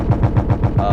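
Cannons firing in rapid, evenly spaced bursts, about seven shots in one second, loud and close, on a bomber plane in the Stormworks game.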